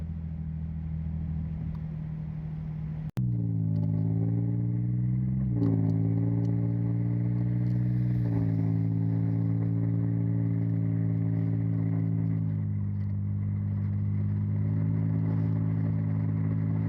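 A car driving smoothly after its sensor was cleaned gives a steady, close engine hum, with pitch rising and then stepping down at a few clean gear shifts.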